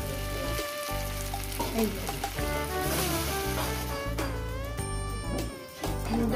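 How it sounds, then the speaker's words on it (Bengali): Vegetables frying in a pan as boiled mung dal is added, giving a steady loud sizzle under layered music with tonal lines, and a brief word spoken near the start. "মুগ ডাল সিদ্ধটা দিয়ে দিলাম।"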